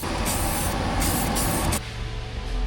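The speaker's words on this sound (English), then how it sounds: "You actually spray the plate and the chassis." A steady, loud hiss of spray painting a Toyota Land Cruiser 79 Series chassis and plate fills the clip, cutting off abruptly near the end and leaving a quieter room tone.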